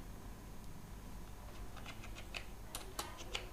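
Quick, light keystrokes on a computer keyboard, starting sparse and turning into a faster burst of clicks near the end, heard faint and close in a quiet room.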